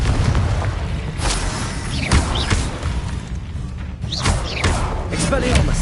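Booming Confringo blast spells explode in a Hogwarts Legacy battle, several heavy thuds and bursts landing every second or two over a constant rumble of combat, with voices calling out over the fight.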